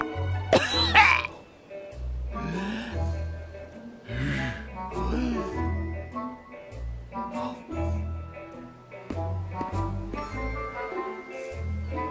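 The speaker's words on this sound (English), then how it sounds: "He has to cough." Sam, a character in the video game Manual Samuel, coughs and splutters after breathing in with a mouth full of water, a loud opening burst followed by repeated gasps, coughs and throat-clearing amid background music.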